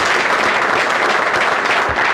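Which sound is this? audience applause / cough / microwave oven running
audience applause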